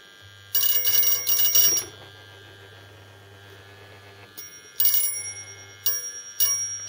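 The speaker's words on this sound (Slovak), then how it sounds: "A zvonček nám už pekne zvoní." A small bell on a Meccano model is rung by a magnet mechanism, bright rapid trills in short bursts separated by pauses, over a steady low electrical hum.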